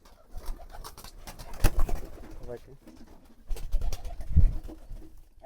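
Pigeons coo in a series of soft, low, rolling calls with a few louder bursts, recorded close by in a coop, along with faint background voices and light handling noises.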